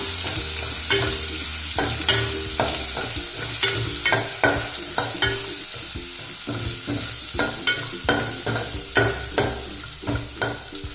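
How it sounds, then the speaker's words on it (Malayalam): Chopped green chilies, garlic paste and curry leaves stirred in a hot pan for a simple soybean curry, a spoon scraping in a steady rhythm of close, regular strokes over a continuous frying sizzle. "എന്നിട്ട് നമുക്കിതൊന്ന് മിക്സ് ചെയ്യാം."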